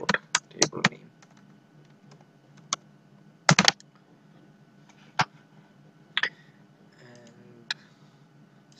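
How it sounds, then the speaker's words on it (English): Sparse keystrokes on a computer keyboard while a database query is typed: scattered sharp clicks, some in quick pairs and clusters, with quiet pauses between, close and clear with no talking. "so here I have typed the query"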